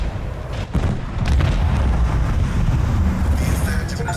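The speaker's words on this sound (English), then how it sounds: "Initiate macro cannon barrage!" Macro cannon barrage in Warhammer 40k: Rogue Trader, a heavy, continuous rumbling roar of ship cannons that swells after a brief opening blast and stays loud to the end.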